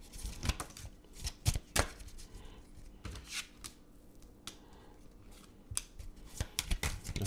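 Cards for a psychic card reading are shuffled and drawn close by, with sharp snaps and flicks coming in irregular clusters and quieter gaps between them.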